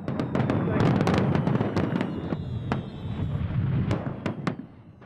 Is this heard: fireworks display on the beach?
yes